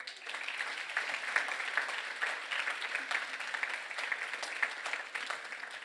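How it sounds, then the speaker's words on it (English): Audience applause for a speaker after a talk on how Christians engage in politics, an even, sustained patter of many hands clapping at a moderate distance, with no voices. "could we give another round of applause for Mr. Ware?"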